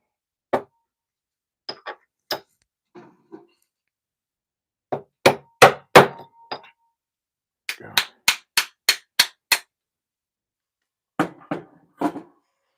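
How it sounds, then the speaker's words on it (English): Sharp metal hammer blows on a 0.99 fine silver coin being shaped into a ring with a punch, struck in short bursts of two to six clanging taps separated by brief pauses, close and loud. "Take my hammer."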